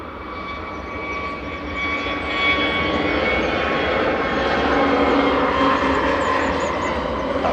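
Jet2 airliner engines roar as the plane departs Manchester Airport, a loud, steady, broadband rumble that swells slightly and holds throughout with no talking.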